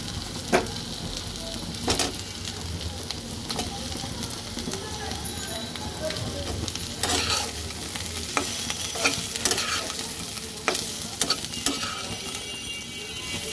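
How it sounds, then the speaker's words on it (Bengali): Fried potatoes are stirred into onions frying in oil, a close, constant sizzle with repeated spoon scrapes and clacks against the pan, joined now and then by faint voices. "পেঁয়াজটা ভাজা হওয়ার সাথে সাথে আমি এখন এর মধ্যে দিয়ে দেব ভাজা আলুগুলো"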